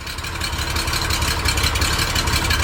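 A Porsche 911 with a new muffler idles steadily and loudly up close, a continuous low throaty rumble with no revving and no voices.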